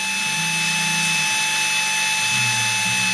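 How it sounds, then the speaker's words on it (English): A rotary handpiece spins a tapered ceramic stone while carving feather barbs, giving a steady high whine with a low grinding hum that shifts pitch as pressure changes on the work. "using the side of the tapered stone, I'm just creating my individual feather barb"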